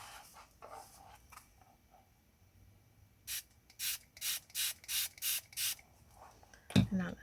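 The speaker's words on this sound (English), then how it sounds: "I'm actually spraying from a distance." Water spritzed from a spray bottle held at a distance onto a Brusho watercolour painting: about seven quick, even hissing bursts in a steady rhythm, preceded by faint rustling and ending with a soft knock.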